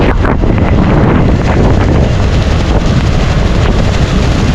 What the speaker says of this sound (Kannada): ಗಾಳಿ ಇದೆ ಆಯ್ತಾ, ಗಾಳಿಗೇನು ಕಮ್ಮಿ ಇಲ್ಲ